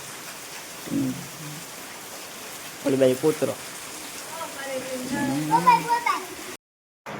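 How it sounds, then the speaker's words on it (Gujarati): Steady rain falls throughout at a scenic roadside spot near Jamjodhpur, a soft continuous hiss with a few bursts of nearby talk over it. "વરસાદ જવાનું નામ નથી"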